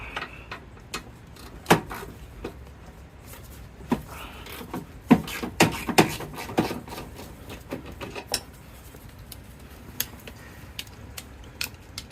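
A ratchet clicks in quick uneven runs on old, long-stuck engine bolts of a 1999 Honda Civic Si, close by, mixed with metallic knocks and scrapes.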